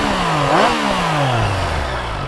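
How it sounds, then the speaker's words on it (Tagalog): A Triumph Tiger Sport 660 inline-three engine with its stock exhaust revs up and falls away, a close, loud raspy rise and long descending wind-down with no talk. "So ito ang tunog ng stock pipe na inline 3."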